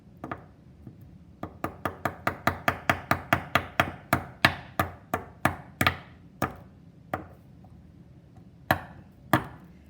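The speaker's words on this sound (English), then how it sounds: "Let's try hammering it." A hammer strikes a small piece of aluminum over and over in a school periodic-properties lab, a fast run of sharp, close metallic taps that slows to scattered single blows toward the end, with no talking.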